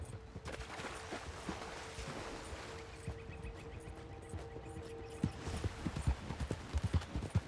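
Horse hooves clip-clopping at a steady walk in Red Dead Redemption 2 online, a continuous rhythmic patter close by under a low game hum, growing heavier and more uneven toward the end.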